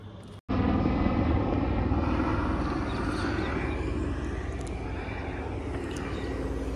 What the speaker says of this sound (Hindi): ये एरिया एयरफोर्स के जस्ट पास में है, तो आपको यहाँ पर हर एक 5 मिनट में हेलीकॉप्टर एरोप्लेन्स देखने को मिलेगी